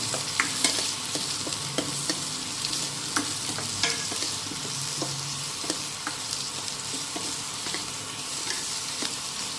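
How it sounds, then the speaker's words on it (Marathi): Onions sauté in hot oil for a hotel-style green peas masala, giving a steady, dense sizzle with light, regular clicks of a spatula against the pan throughout. "तेल तापलं की त्यात कांदे टाकून द्यायचे चांगलं परतून घ्यायचे"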